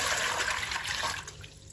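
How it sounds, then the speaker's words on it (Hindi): Water being poured while making a drink, a close, steady splashing pour that tapers off toward the end, with no talking. "यहाँ पे पानी ऐड करते हैं"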